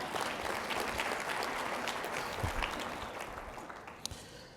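Steady applause from a conference audience at a small business finance forum plenary, dense and sustained, slowly tapering toward the end with a few sharp individual claps.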